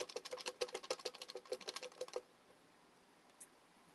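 Paper raffle tickets rustle and rattle as they are shaken to mix them, a quick even burst of crisp clicking for about two seconds, then near silence with one faint tap.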